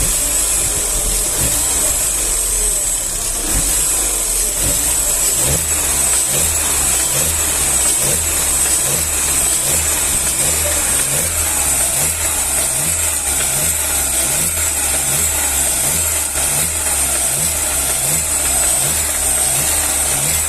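Opel Astra 2009 engine running steadily and revving, a continuous mid-pitched hum with a steady pulsing rhythm and a faint repeating tick, close and loud with no talking.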